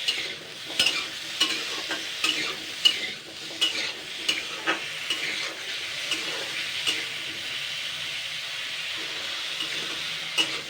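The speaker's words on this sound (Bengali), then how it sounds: "জাস্ট এটাকে আমি 2 মিনিট হালকা নাড়াচাড়া করে নেবো, মানে ভেজে নেবো।" Cut pumpkin pieces are stirred in a frying pan, a soft steady sizzle punctuated by repeated scraping clacks of the spatula at an irregular pace, close and alone without talking.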